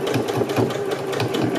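A sewing machine stitches a seam on a fabric face mask, running as a steady, close, rhythmic whir with a quick repeating needle beat and no voices.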